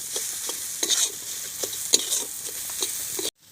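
Amla pickle cooked with sugar and salt is stirred in a pan. It gives a soft, sticky sizzle with regular spoon scrapes about twice a second, then stops abruptly at the end with no talking.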